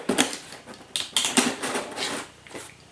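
Packing tape is pulled and pressed onto a cardboard box to lengthen it for shipping, making close, loud ripping and screeching bursts with short pauses between strips.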